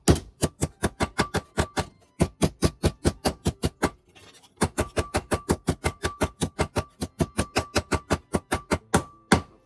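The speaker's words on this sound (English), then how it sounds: "Just a little hammering will do it." Hammer blows on twisted angle iron to straighten it, rapid and evenly spaced sharp metallic strikes, loud and close, with a brief pause midway before the steady pounding resumes.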